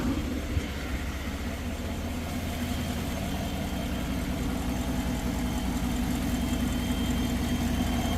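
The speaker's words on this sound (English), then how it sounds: "So let's start it up and try and get this cycling." A 2015 Chevy Tahoe engine idles steadily just after starting, a continuous close, even rumble with a faint knocking texture and no talk.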